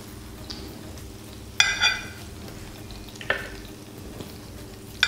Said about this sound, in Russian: Пока обжаривается наша грудка